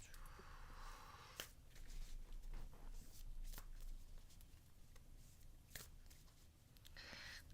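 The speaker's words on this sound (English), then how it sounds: "I'm going to shuffle the cards." Playing cards are shuffled softly in quick riffling bursts, close and quiet, with no talking.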